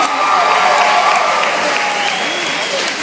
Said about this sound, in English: Give it up for Alan one more time.